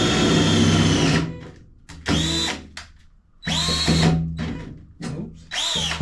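Power drill boring bolt holes in a 50 cal tall steel ammo box, with several separate whining bursts of about a second each and short quiet gaps between, close by.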